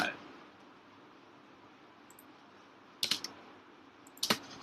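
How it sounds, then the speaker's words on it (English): A computer keyboard clicks in two short bursts of quick typing near the microphone, separated by quiet room hiss. "So let's type in any dummy text."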